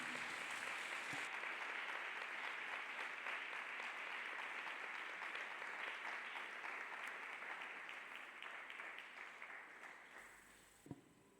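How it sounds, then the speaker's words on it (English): A congregation at a Christian worship gathering applauds loudly and continuously, many hands clapping at once, gradually fading toward the end. "Let us clap hands for Jesus Christ."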